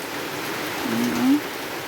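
Steady heavy rain hisses without a break, a dense wash of sound with a faint low tonal murmur rising briefly in the middle.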